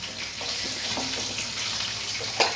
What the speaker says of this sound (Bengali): মাছ একটা ভাজা হয়ে গেছে, এগুলো আমি তুলে নিচ্ছি।